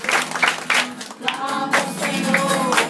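Children clap along to a Portuguese worship song, rhythmic hand claps mixed with singing voices and music, close and lively.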